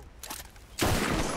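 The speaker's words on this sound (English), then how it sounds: "I shot him in the back." A gunshot in the Red Dead Redemption video game bursts in loud and close partway through, leaving a sustained roar and rumble after a quieter stretch of softer noise.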